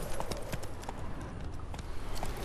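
Hooves of a horse in The Witcher 3 game clopping in a quick, regular gait, the strikes close and distinct over a continuous gritty rumble, with no talking.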